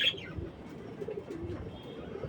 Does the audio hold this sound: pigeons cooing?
yes